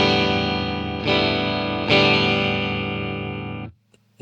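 Electric guitar through a Line 6 Catalyst amp with the middle boosted, distorted sustained chords struck three times and ringing out loud and close, then cut off to near silence.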